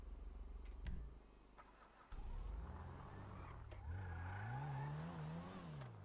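A rented car's engine in the ARURA RP roleplay game cranks and catches about two seconds in, then settles into a steady idle and climbs into a rising, wavering rev near the end. The sound is close and alone, with no talk.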